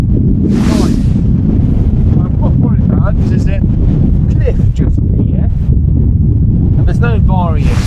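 Strong wind roars and buffets the microphone continuously on an exposed coastal cliff edge, a loud, steady rumble with gusts throughout and faint voices underneath.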